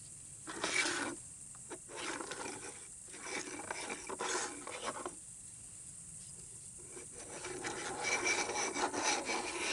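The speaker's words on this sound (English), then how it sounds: "I'm pulling it, pulling line off the spool." Fishing line is pulled off a spool while rigging a bream buster pole, giving quiet, repeated raspy zipping bursts separated by short pauses, up close.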